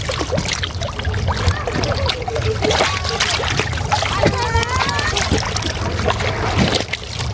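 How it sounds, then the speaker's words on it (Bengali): Water splashing and sloshing as a face is washed with Meghna river water in Bangladesh, near and steady, with outdoor river ambience and faint voices. "এখন নদীর পানি দিয়ে মুখ ধুবো।"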